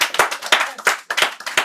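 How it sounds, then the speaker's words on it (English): Audience at a Black History Month panel celebration clapping in bursts, five or six sharp, loud, rhythmic claps with no voices over them. "One more time, please, an applause for this wonderful woman."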